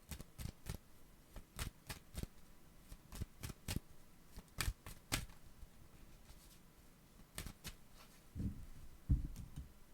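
Tarot cards being shuffled for a reading, a quiet run of crisp riffling snaps and soft taps coming in irregular bursts, close by and without speech.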